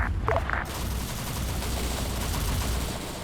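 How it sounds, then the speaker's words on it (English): Machine gun fire rips through a military shooter game in one loud, sustained, dense burst that roars on to the end, following a brief voice at the very start. "that machine gun's gonna start ripping apart a few infantrymen"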